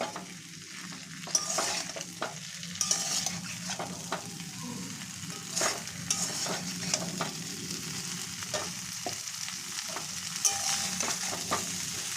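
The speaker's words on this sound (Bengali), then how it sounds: "দেখুন সুন্দর করে কষিয়ে নেব।" Cauliflower and potato sautéing in a pan for a koi fish curry, a steady close sizzle broken by repeated scraping stirs and clinks of the spatula, with no talking.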